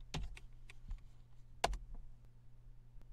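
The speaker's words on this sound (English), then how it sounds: "So I'll type travel." A few quick computer keyboard keystrokes, sparse close clicks with one sharper tap near the middle, against a quiet low hum.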